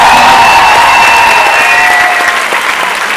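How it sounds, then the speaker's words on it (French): Audience at a comedy show clapping loudly and steadily for a performer, dense close applause that holds strong before tapering slightly toward the end. "Je pense qu'on peut lui donner une bonne main d'applaudissement"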